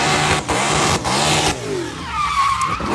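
Nissan S13 with a roots-blown LS V8 engine, revving hard and loud with tires squealing and skidding close by, engine pitch climbing and dropping across a few seconds.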